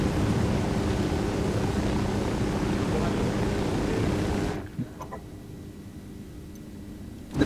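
A helicopter in a video game roars with loud, dense rotor and engine noise for several seconds before cutting off abruptly, leaving a faint, quiet background.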